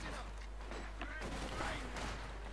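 Small-arms fire and machine-gun bursts in the strategy video game Company of Heroes 2, as grenadier and conscript infantry exchange fire. The shots are faint and crackling under a caster's commentary.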